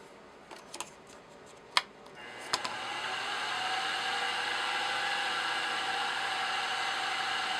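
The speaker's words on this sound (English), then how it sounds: "Got my slitting saw in here. Nothing like a real mean looking aggressive thing. It'll be cutting through metal." A slitting saw on a lathe or mill cutting metal at around 800 RPM, a few sharp ticks and taps giving way to a steady, close, bright whining grind that holds loud and continuous.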